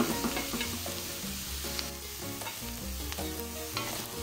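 Minced garlic fries in hot oil, a steady loud sizzle and crackle running throughout with scattered stirring clinks, no voices.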